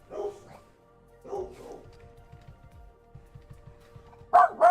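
Dogs barking in a few short, fairly loud bursts separated by pauses, with quiet ticking and clicking filling the gaps between barks.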